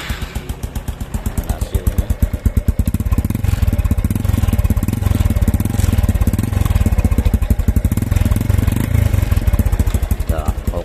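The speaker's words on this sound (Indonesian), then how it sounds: "Jadi kita nyalakan" A motorcycle engine runs after carburetor tuning to cure smoking when hot, with a steady, fast, close putter and slight rises in revs that carry on throughout.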